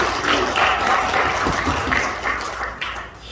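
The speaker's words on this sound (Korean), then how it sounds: "금년 한 해 건강 지켜주신 하나님께 영광의 박수 올려드립니다." A church congregation at a Sunday worship service claps in applause, a dense, steady wash of hands sustained for a few seconds before tapering slightly.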